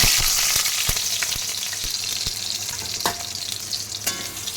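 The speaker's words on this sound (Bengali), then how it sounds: "এবার আমার তেলটা গরম হয়ে গেছে বুঝলে এবার এর মধ্যে আমি আলুগুলো ভেজে নেব" Potatoes frying in hot mustard oil, a steady close sizzle and crackle with occasional sharp pops and stirring clicks, no talking.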